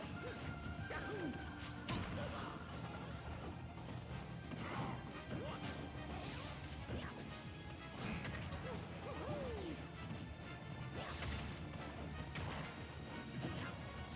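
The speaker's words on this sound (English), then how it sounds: "a nice smash attack might do" Super Smash Bros match between Roy or Donkey Kong and Mario at a tournament, a dense wash of game effects with repeated crashing hits and whooshes over a continuous background din.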